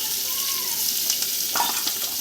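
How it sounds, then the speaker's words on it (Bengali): Onions sizzle steadily in hot oil, a dense, even crackling hiss close by, with a few light stirring scrapes. "কুচি পেঁয়াজটা দিয়ে দিলাম। এটা দিয়ে একটু ভাজা ভাজা করে নেবো"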